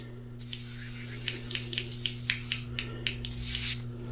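Cleaner is sprayed onto a rusty deck of a Yamaha Terrapro PTO mower. A close, loud hiss comes in short spurts over a steady low hum and swells into a stronger blast near the end.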